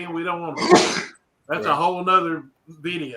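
A sharp sneeze bursts out midway through conversation on a radio talk show, loud and close, with people speaking before and after it.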